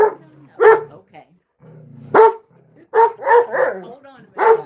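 A dog barks repeatedly up close, loud irregular barks mixed with low growls, while someone speaks between them.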